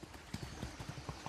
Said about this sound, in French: Alors ça c'est Iberia, c'est une jument lusitanienne